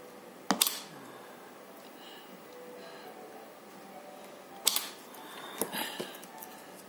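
A capacitive spot welder joins a resistor lead to a battery, giving sharp isolated snaps: one loud crack early on, then a few more clustered later, over quiet background.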